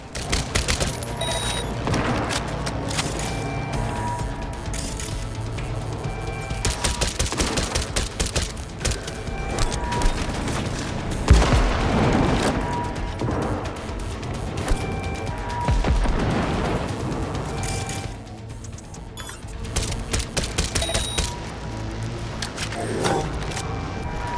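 Continuous in-game gunfire from Cyberpunk 2077 over 24 seconds, dense bursts of automatic fire and booming shots layered with music and effects, steadily loud with a few heavier impacts.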